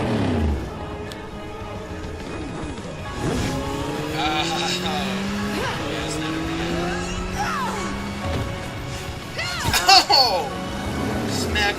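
A car speeds along in a Lara Croft versus Nathan Drake Death Battle animation, the engine whining and shifting pitch with tire squeals, under music and effects, with a sharp impact near the end.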